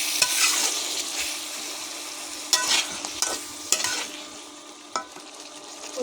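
Hilsa fish head, pumpkin and ginger-cumin paste stirred in a hot frying pan, a bright steady sizzle broken by several loud scraping stirs of the spatula.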